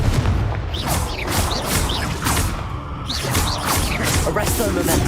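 Confringo fire spells in Hogwarts Legacy blast repeatedly in a rapid series of booming, crackling explosions, loud and close, with a constant rumbling low end throughout and no talking.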